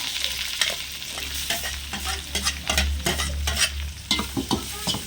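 Ginger garlic paste, curry leaves and small shallots fry in hot oil for a Sunday chicken kuzhambu, with a close, crackling sizzle and repeated spoon stirring and scraping throughout, no voices.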